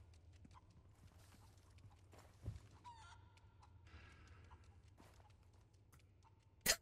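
Chickens clucking and scratching in the Resident Evil 4 video game, scattered soft clucks with faint clip-clop-like taps and two sharper hits, quiet and a little distant over a low rumble, with no talking.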